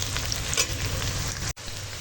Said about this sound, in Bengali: তেজপাতা পেঁয়াজ কাঁচা লঙ্কা সব একসঙ্গে ভালো করে ভেজে নেব